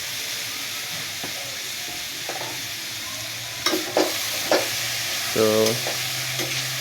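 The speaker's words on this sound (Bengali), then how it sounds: "আমি নেড়ে চেড়ে পুরোটা মাখিয়ে নিলাম" Boiled noodles with potato and yard-long beans are stirred in a frying pan, with a steady sizzle broken by several sharp scrapes and clatters of the spatula, and a single short word is spoken.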